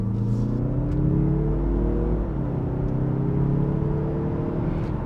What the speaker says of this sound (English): you don't have to floor it to accelerate well in this car